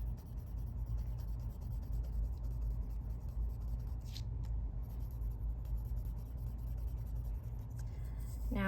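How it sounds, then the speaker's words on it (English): A mechanical pencil shades on paper under heavy pressure, a continuous soft scratchy rubbing that persists steadily, fairly quiet, with a low background rumble. "we are using our heaviest pressure without breaking our mechanical pencil here."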